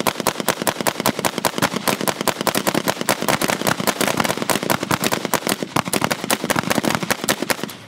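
Guns fire rapidly at stage lighting fixtures, a dense, loud, rhythmic barrage of sharp shots cracking several times per second without pause for the full stretch.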